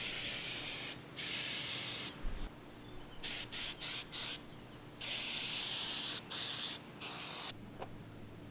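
A spray paint can hisses in repeated bursts of spraying outdoors in hot weather, some long and some quick short spurts, close by with brief pauses between them.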